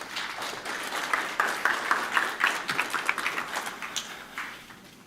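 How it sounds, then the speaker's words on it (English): An audience at the opening event of a Norway Grants programme in Riga, Latvia gives a modest round of applause, soft and fairly distant, with scattered claps that swell slightly and then taper off. "A round of applause."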